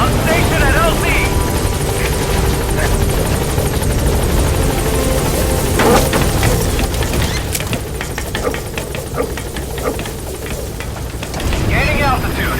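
Pequod, the transport helicopter from Metal Gear Solid V: The Phantom Pain, flies with a steady, loud rotor drone that fills the whole clip, and scattered mechanical clicks and chatter sit on top.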